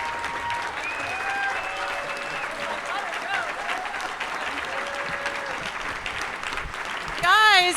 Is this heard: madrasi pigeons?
no